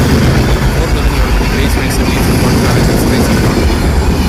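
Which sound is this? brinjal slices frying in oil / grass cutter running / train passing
train passing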